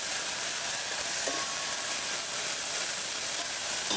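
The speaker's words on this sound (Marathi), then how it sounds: "थोडंसं मिरची घातलेली आहे आणि ते आपल्याला चांगलं परतून घ्यायचं" Chopped green chillies sizzle steadily in hot oil, a close, continuous frying hiss that holds level throughout with no voices over it.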